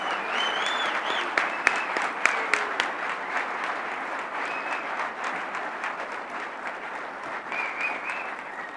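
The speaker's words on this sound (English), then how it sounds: "give them a round of applause for the great deal of effort and hard work that they have put into this program" Steady audience applause for volunteers at a rally in London, a continuous field of clapping with a few sharper individual claps and light whistles, moderately loud and sustained throughout.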